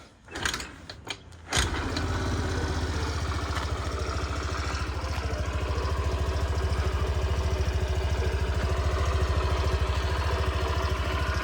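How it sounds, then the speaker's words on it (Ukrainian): A new 2023 Suzuki Address 125 scooter is started with a few sharp mechanical clicks and cranks, then its small engine catches and idles steadily and close by, a low even putter that continues to the end. "І що добре, є кікстартер. Можна завести його."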